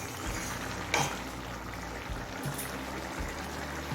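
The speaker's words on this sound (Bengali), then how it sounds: "গরম মশলার গুঁড়ো দিয়ে ভালোভাবে নেড়ে মিশিয়ে নিলাম।" Chicken rajma is stirred with garam masala powder in a pan, making a low steady sizzle and bubbling with a scraping clink of the spoon now and then, near and moderately quiet, no talk.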